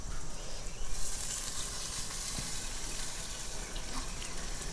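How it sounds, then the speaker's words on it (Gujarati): Water pours into a pan of spiced stuffed drumstick curry during village home cooking, a steady broad wash of splashing and hissing that stays fairly loud throughout, with no speech. "આમાં આપણે છે ને થોડું પાણી નાખી દેવી ને પછી એને ચડવા દેવી"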